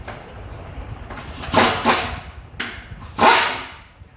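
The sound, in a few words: hammering a stuck bolt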